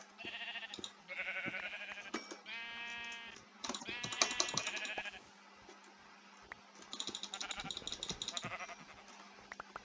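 Sheep bleating in a Minecraft-style game, NationsGlory: several loud, wavering bleats in quick succession, with keyboard clicking and game noises underneath.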